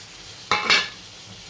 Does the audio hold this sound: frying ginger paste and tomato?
yes